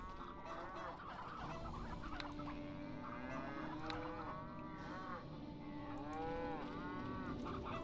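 Cattle moo repeatedly in the video game Neverwinter Nights, several drawn-out calls overlapping across a farmyard with chickens clucking in the background, steady and moderately faint.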